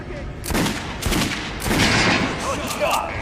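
Gunfire rings out at training dummies in the shooting range of Metro Last Light, several quick bursts of shots in a row with loud, echoing reports.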